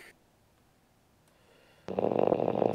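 A man snoring, a sudden loud rasping snore breaking in after near-silence with faint ticks, close and alone.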